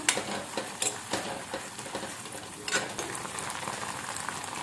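Vegetable Manchurian with dark soy sauce is stirred in a pan, a soft crackling fry broken by several sharp scraping clatters of the spoon, moderately close and without voices.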